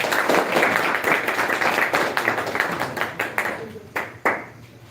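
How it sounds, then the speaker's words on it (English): An audience claps at a birthday celebration with a burst of dense applause that thins into scattered, separate claps toward the end. "Please clap. Clap for Quaid."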